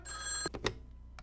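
A telephone rings in a video game: a bright electronic ring for about half a second, followed by a few short clicks and then quiet.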